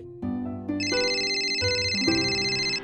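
A mobile phone ringtone plays alone as a bright electronic melody, with layered tones stepping up and sustaining for a few seconds.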